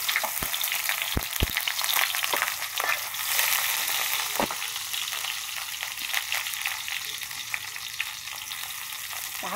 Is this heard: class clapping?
no